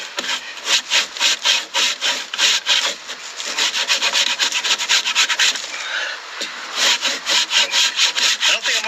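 A rasp works along the edge of a wooden piece in a close, rhythmic series of gritty scraping strokes that speed up and slow down, with one short break before the steady filing resumes.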